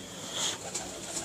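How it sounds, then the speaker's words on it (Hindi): A pigeon coos softly at close range, a few low, muffled coo notes drifting through a quiet room. "अब ये देखिए ये कबूतर है"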